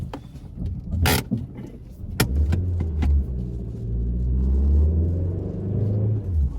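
A Ford Focus 1.6 with 115 hp labours uphill on a dirt and sand mountain road, its engine rumbling low and steady as the revs climb while the tires spin in place, with a few sharp clunks early on.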